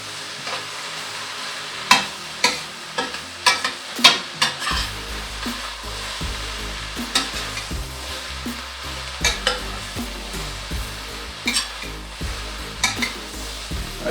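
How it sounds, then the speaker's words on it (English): Broccoli florets and other vegetables with tofu are stir-fried in a hot wok, loud close sizzling under frequent scraping and tossing strokes of a spatula against the metal, with sharper clanks scattered throughout. "I take the vegetable from the bottom of the wok, bring that to the top"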